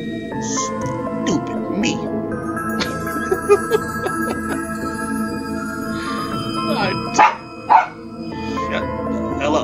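A dog barks and yips near a person who talks over a constant background of game music, with several short sharp bursts toward the end.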